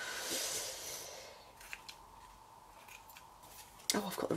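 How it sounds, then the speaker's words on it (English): Scissors snipping while trimming paper for a tea bag envelope craft, a few faint, quick cuts followed by a louder snip near the end, with no other sound nearby. "Oh, I've got the wrong scissors, that's why."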